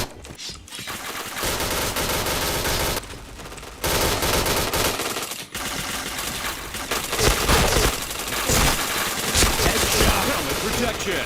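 Gunfire in the Point Blank shooter game: dense, loud bursts of rapid automatic fire with short pauses between volleys, close and continuous across the clip.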